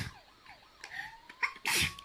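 A sneeze bursts out near the end, loud and close, after a faint sliding whistle-like tone in an indoor kids' activity setting.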